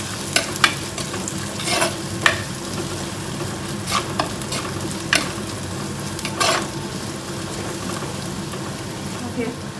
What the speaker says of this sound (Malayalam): എല്ലാം കൂടെ നല്ലതുപോലെ ഒന്ന് വഴറ്റിയെടുക്കാം